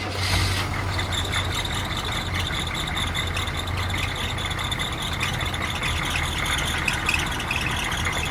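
Squarebody truck engine idling with a loose belt, a loud steady rumble under a high, persistent squeal that continues without a break for the whole stretch.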